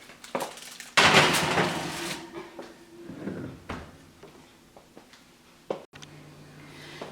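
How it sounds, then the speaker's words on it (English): An eggplant lasagna dish slides into a home oven, with a loud clatter and scrape followed by a few lighter clunks as the oven door handles and shuts, all close by. "So now we're gonna put this in the oven."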